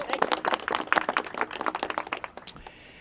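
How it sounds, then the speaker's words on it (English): An audience at a ribbon-cutting event claps loudly for several seconds, a dense patter of many hands that thins out and fades toward the end. "A round of applause."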